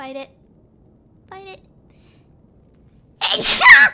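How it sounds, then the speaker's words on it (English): A single loud, close sneeze from a young-sounding voice bursts out at the end, after two brief spoken phrases and a pause of near silence. "I gotta sneeze."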